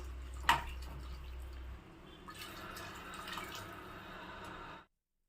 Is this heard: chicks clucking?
no